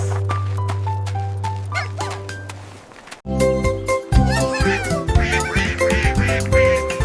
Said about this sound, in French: Les canards étaient là.